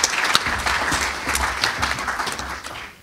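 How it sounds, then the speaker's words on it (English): An audience gives panel speakers a round of applause at a public health talk on the tobacco industry, close, lively clapping with a few louder individual claps that fades toward the end. "it would be helpful if you gave these guys a round of applause just to help get them going"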